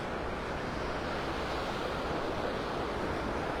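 Waves washing onto a beach in North Naples, Florida, with sandbars offshore at low tide, a continuous, even roar of surf that holds steady throughout with no voices.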